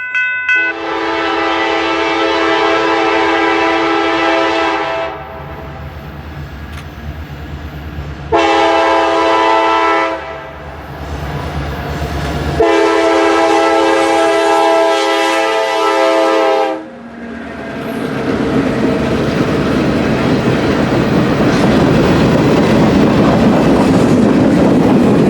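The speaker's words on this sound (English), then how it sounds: "It was the Fort Smith Dodger returning rather early from Fort Smith after interchanging with the Arkansas-Missouri Railroad in Fort Smith." The Fort Smith Dodger, a Kansas City Southern freight train coming back from Fort Smith, blows several long, loud horn blasts in sequence, then its heavy wheel rumble and clatter roll on steadily nearby.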